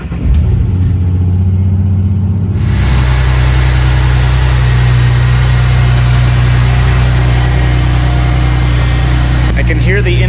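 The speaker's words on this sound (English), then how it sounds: "I can hear the intake hissing, sucking in air." Car engine idling loudly and steadily after a computer retune, a constant low drone with broadband hiss after a quieter opening, close to the engine bay.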